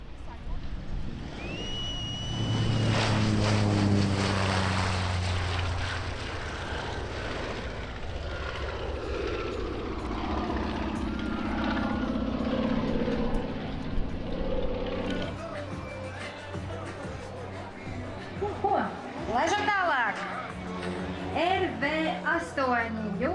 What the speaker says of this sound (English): Here come 2 Latvian aircraft, a pair of Vans RV-8As